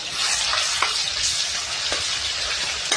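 Ground paste of two medium onions sizzles steadily in hot oil for a Puneri-style pea curry, a close, continuous hiss punctuated by a few soft stirring scrapes.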